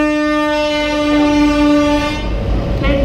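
Tram sounding a long steady horn as it passes at a truck show, loud and close, with the rumble of the vehicle beneath and the tone cutting off near the end.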